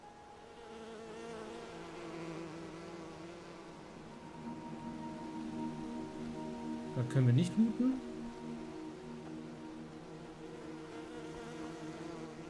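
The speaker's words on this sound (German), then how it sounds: "Ja, die Bienen lassen wir mal in Ruhe." Bees swarming in the video game Enderal give a constant layered buzzing drone throughout, while someone speaks briefly over it in the middle.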